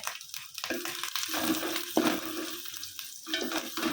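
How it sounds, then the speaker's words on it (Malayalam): Grated coconut roasting in ghee for a beaten-rice sweet gives a moderate, close sizzle broken by uneven stirring scrapes and soft crunchy rustles. "ഇതിലോട്ട് ഞാൻ നെയ്യ് ഒഴിച്ചിട്ടുണ്ട് തേങ്ങ ഒന്ന് മൂത്ത് വരട്ടെ"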